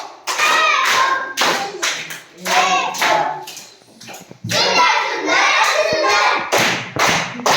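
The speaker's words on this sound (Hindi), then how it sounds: "ताली बजाओ इसके लिए" Children clap together at a primary school prize ceremony in bursts of loud, close claps, with an adult speaking between the rounds.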